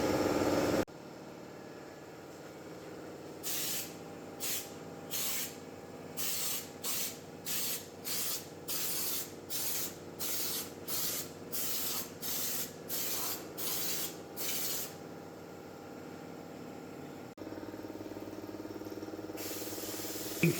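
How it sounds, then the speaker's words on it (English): A Dominator aerosol can sprays coating in a long series of short, regular hissing bursts with brief pauses between them, then one longer spray near the end. "holding that Dominator cans up, spraying."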